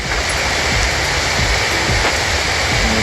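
Heavy rain pours down steadily during a fishing trip, forming a loud, unbroken wash of hiss close around the listener with no pauses.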